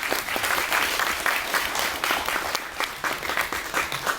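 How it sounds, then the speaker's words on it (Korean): Applause from an audience at a Korean film library talk for the movie Delta Boys, a steady dense clapping that runs loud and unbroken throughout, with faint voices mixed in underneath. "박수 한번."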